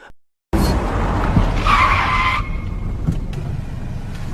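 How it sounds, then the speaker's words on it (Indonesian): A car's tires screech loudly in a sustained skid as it brakes hard to a stop, the squeal rising and then cutting off, with engine rumble and road noise continuing afterward; nearby and prominent, no voices. "Tak berselang lama, datanglah sebuah mobil yang hendak menghadangnya."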